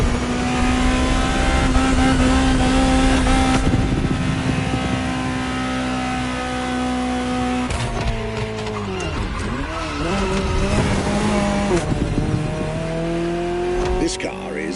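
Ferrari 288 GTO supercar engine driving, a loud, steady engine drone that rises and falls through revs and gear changes, with engine pitch swooping around the middle, heard near the car.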